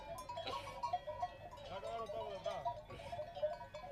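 Sheep on a transhumance bleat repeatedly, several overlapping calls at close range under a narrator's voice speaking Spanish.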